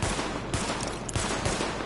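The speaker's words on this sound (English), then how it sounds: "Open fire. fire at the highlighted targets." Rapid gunfire from a sidearm pistol shot at highlighted targets in the video game The Division, loud, dense and continuous over a short stretch with no speech.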